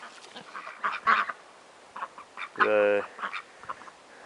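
Peking and Indian runner ducks quack in a farmyard, a few scattered calls followed by one louder, harsh quack, with someone speaking briefly over them.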